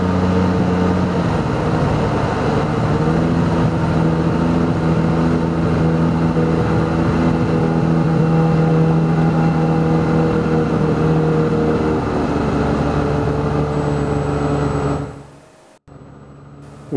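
A small airplane lands on a snowy runway, its engine droning loudly and steadily throughout before the sound drops away abruptly near the end.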